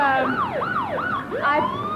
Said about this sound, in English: Yes, George, this is an antique Indiana State Police car.